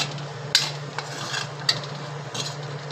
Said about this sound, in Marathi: मंद गॅसवर आपण थोडा मसाला परतून घेऊ।